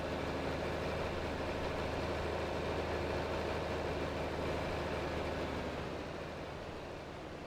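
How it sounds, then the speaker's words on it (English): Small tractor engine in Farming Simulator 25 hauling a heavy load of silage, a steady low rumbling drone that holds at a constant level and eases slightly near the end, with no talk. "Oh, that silage is pretty heavy on this little tractor."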